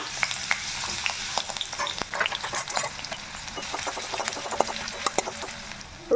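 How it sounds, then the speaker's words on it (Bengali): Chopped garlic with a little chopped ginger frying in hot oil, a close, lively crackling sizzle with sharp popping spatters and occasional stirring clinks, no voices. "তো তেলটা গরম হয়ে গেছে, আমি এর মধ্যে এবার দিয়ে দেব হচ্ছে রসুন কুচি এবং তার সাথে দিয়ে দেব হচ্ছে খুব সামান্য পরিমাণে আদা কুচি।"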